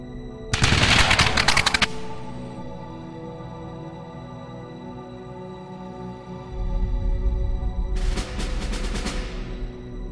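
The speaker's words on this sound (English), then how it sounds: "This time, the shots find their target." A firing squad executing a mutineer in the Continental Army during the American Revolution: a loud, rapid volley of gunfire, a short pause with a low rumble, then a second burst of shots.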